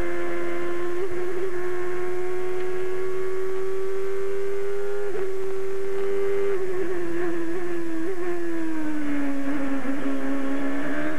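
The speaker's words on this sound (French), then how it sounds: "On écoute la voiture, Didier?" A 2006 Indy race car engine at the Edmonton street race, one loud sustained high-pitched drone with steady harmonics that dips and rises slightly as the car passes, with no talk over it.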